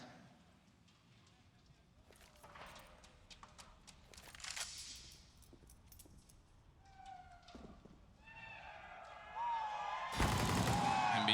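Gunfire and game effects in a Counter-Strike match on the Overpass map, scattered shots and clatter building to a loud burst near the end, with commentary talk running underneath.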